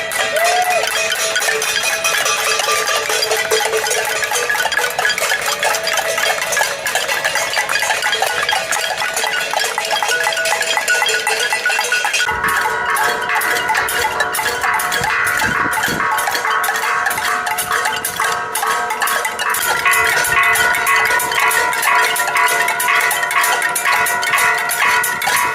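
Protesters at a railway station rattle and bang pots and pans in a dense, continuous metallic clatter, loud and sustained throughout, growing more layered partway through.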